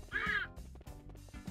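A duck in the Chicken Bomb video game gives a single short nasal quack, followed by low rumbling game sounds.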